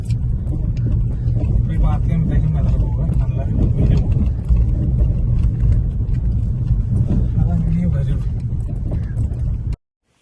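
A car driving along a road in England in changeable weather makes a steady, loud engine and tyre rumble with road noise that runs without a break for about ten seconds, then cuts off.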